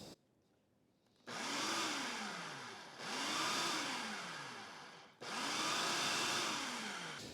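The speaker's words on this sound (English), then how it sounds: "Now I need to blend these ingredients," A food processor blends flour with ground nutmeg and cinnamon in three loud, whirring bursts, each motor run starting abruptly and dipping in pitch, separated by brief pauses.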